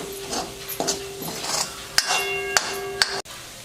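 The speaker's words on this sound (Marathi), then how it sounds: "आता याला परत हलवून घेऊ." A utensil stirs pav bhaji with masala and chilli in a pan, scraping softly, then knocking sharply against the metal with three distinct clanks near the end.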